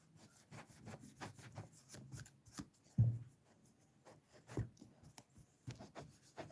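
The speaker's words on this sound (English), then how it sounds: "Let me take my old eraser and let me rub it off" An old eraser rubs pencil marks off paper in quiet, rhythmic back-and-forth strokes, close and soft, with one slightly louder scrub partway through.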